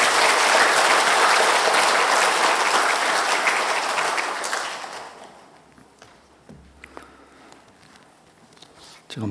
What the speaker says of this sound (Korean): 목사님 나오실 때 큰 박수로 환영해 주십시오.